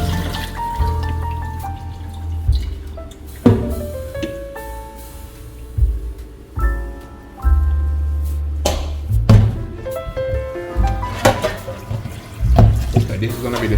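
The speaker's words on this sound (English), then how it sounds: "I'm gonna go ahead now and throw the water off." Water sloshing and splashing out of a cooking pot as it is poured off while rinsing oxtail, in uneven bursts with pauses, trickles and clanks of the pot between pours.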